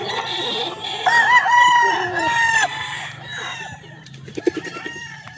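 A Hatch Gray gamefowl broodcock crows loudly and close, two drawn-out calls in a row, followed by softer clucks and scattered farmyard bird noise.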